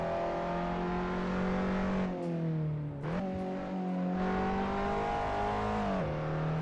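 Closed-wheel race car engine at Detroit Belle Isle in a racing video game, roaring loud and steady under full power with rising pitch, a brief dip around a gear shift, then pulling hard again.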